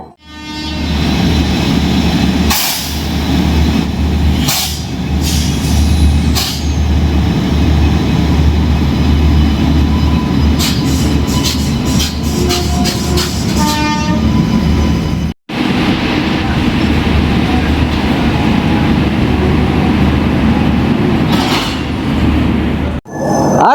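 A train hauled by a WAP7 electric locomotive pulls into Visakhapatnam station with a loud, continuous rolling rumble and rattling wagons. Sharp clanks and squeals come through as it moves past close by.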